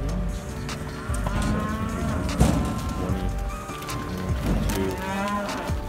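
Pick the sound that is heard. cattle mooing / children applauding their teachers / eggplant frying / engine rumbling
cattle mooing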